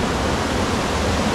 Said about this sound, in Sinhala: ඔතනින් වතුර ටික පල්ලෙහා ලස්සන ගලාගෙන යනවා